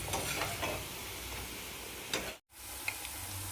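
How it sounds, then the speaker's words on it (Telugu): Okra frying in a pan, a steady close sizzle with occasional light stirring scrapes and clicks, briefly cutting to silence midway before the frying resumes. "బెండకాయ మంచిగా మగ్గింది మంచిగా ఫ్రై అయిపోయింది"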